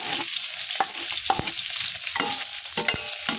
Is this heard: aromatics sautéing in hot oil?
yes